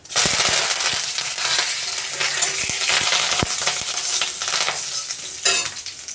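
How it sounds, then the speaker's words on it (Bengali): Curry leaves dropped into hot oil with panch phoron and a dried red chilli crackle in a loud, steady sizzle close up, broken by sharp pops and clicks of stirring. "তো আমার এটা ভাজা হয়ে গেছে এর মধ্যে আমি দুটো কারি পাতা দিয়ে দিচ্ছি"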